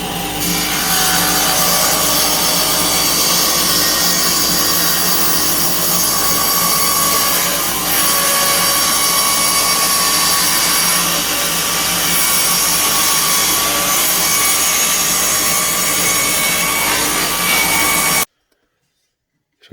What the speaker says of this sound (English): I'm going to do this bevel also on the table saw